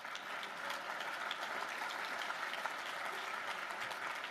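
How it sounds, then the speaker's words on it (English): Audience clapping at an evening motivational talk by Deion Sanders, heard as a steady, fairly faint wash of many hands in a room, continuous and even throughout without any voices over it. "You're supposed to clap right there."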